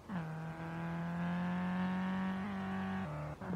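A car engine held at half throttle in Street Legal Racing Redline: a steady, even hum that dips briefly as the gears shift, close and continuous, no talk.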